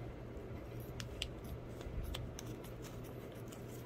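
Quiet, sharp scissor snips cutting open parts packaging and crinkly handling noises at close range over a steady low hum, with a few louder clicks spaced irregularly.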